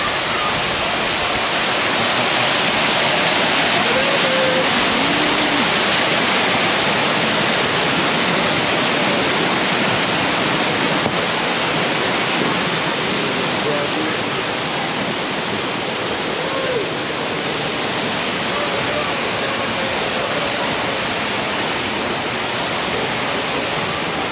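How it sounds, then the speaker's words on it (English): Steady, loud rush of falling water, a constant broadband roar with no breaks throughout. "We got a waterfall."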